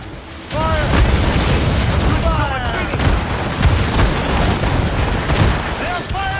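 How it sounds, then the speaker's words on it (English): Naval cannon volley from sailing ships in Assassin's Creed Rogue, a dense rolling barrage of booms and crackling blasts, loud and continuous, with shouted voices cutting through. "They're firing a volley!"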